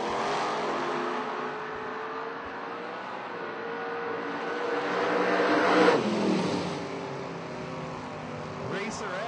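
Drag racing cars, a 1967 Camaro and a Mustang, at a footbrake drag racing event, roar loudly with a broad engine rumble that swells and peaks mid-run before easing off, while a voice talks over it.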